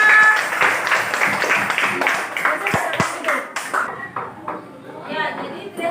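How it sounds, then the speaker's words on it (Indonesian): Applause in a classroom for a student, a short burst of clapping from a group that tapers off, with a voice speaking over it. "Tepuk tangan untuk Resya"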